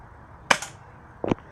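Two sharp BB gun shots, about 0.8 seconds apart, fired at a paper target outdoors; each is a brief, close snap standing alone against a faint background.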